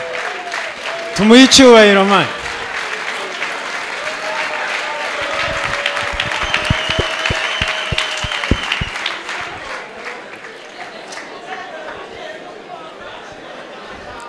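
Audience rising to its feet for a standing ovation, dense sustained applause with cheering and chatter, someone speaking over it at first before the clapping carries on alone and slowly thins.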